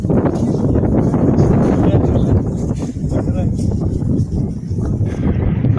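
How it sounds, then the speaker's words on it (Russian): Loud, gusting wind buffets the microphone in a continuous low roar that rises and dips slightly. "Опять поднялся ветер."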